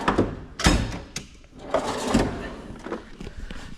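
Drawers of a Snap-on toolbox slide open and shut with several metallic rolling scrapes and clunks, near and fairly loud, with a little quiet talk between them.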